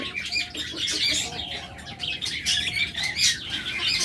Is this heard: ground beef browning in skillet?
no